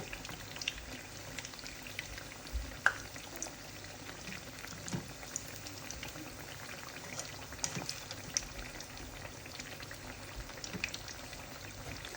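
Continuous soft sizzling and bubbling of pitha (sweet rice-flour cakes with jaggery and coconut) frying in oil in a frying pan, with scattered tiny pops throughout, steady and fairly quiet.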